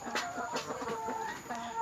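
Egg-laying hens cluck repeatedly in a farm setting, a steady close chorus of short, irregular clucks running throughout with no talking.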